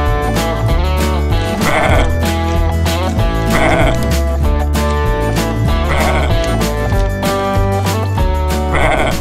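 Herd of goats on a farm in an animated folk tale, bleating in repeated bursts over continuous background music.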